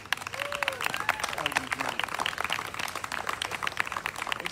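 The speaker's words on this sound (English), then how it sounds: "Can we just get one final hand clap for side eight?" A Sunday morning congregation gives a hand clap for a visiting worship band, scattered crisp claps rising into a lively applause, with a few voices and cheers mixed in.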